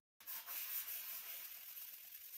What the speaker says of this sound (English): I'm using an 800 grit sandpaper and dipping it in water.